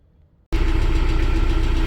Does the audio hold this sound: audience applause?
no